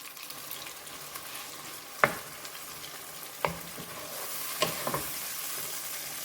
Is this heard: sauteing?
yes